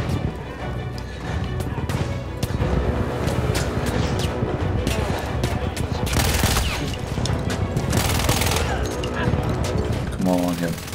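Battlefield 1 combat in the Avanti Savoia mission, played on hard difficulty: dense, continuous rifle and machine-gun fire with sharp cracks and crashes, loud and sustained throughout amid chaotic battlefield noise.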